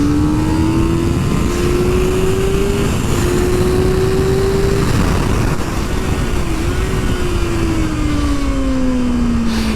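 A 2024 Kawasaki Ninja ZX-6R 600cc sport bike on a race track, its engine droning loud and steady for the whole stretch, pitch climbing and dipping as it is ridden hard, with constant wind rush and no talk.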